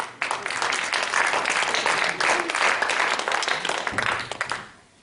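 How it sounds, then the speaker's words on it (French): An audience at a village evening singing show breaks into dense, sustained applause, many hands clapping together before it fades out at the end. "On peut applaudir Mireille quand même"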